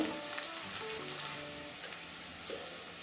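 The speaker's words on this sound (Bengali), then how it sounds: "আলুটা ভাজা অর্ধেক ভাজা হয়ে গেছে" Half-fried potatoes sizzle steadily in hot oil in a pan for a Bengali drumstick curry with mustard and poppy seed, a continuous close crackle with faint tonal clinks and background hum.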